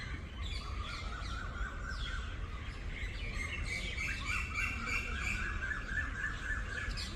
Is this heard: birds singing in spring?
yes